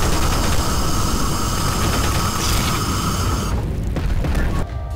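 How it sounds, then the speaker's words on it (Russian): A bomb goes off in the Garry's Mod video game with a loud, dense booming roar that fills the whole stretch, then trails off into rumbling, mechanical-sounding noise. "Еще остались бомбы. Сейчас еще взорвать."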